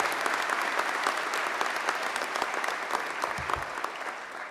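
A graduation ceremony audience gives sustained, dense applause for the college, chair, principal and staff. The steady clapping fills the room at even loudness from start to end, with no talk over it.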